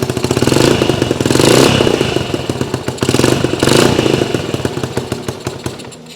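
Cold Honda CT70 motorcycle engine firing on the first kick and running, a loud, close, rapid single-cylinder putter that surges and dips with throttle blips.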